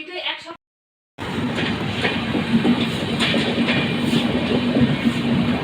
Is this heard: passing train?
yes